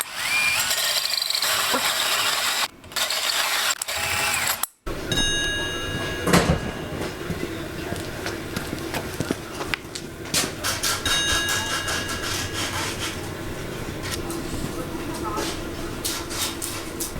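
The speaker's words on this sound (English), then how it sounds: "I'm drilling a hole in here with a hole saw" A power drill with a 2-inch hole saw grinds steadily and loudly through wood, pausing briefly twice early on, then running continuously with a rough, vibrating whine.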